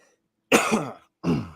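Two harsh, close coughs, the first longer and rasping like clearing the throat, the second shorter, separated by a brief silence.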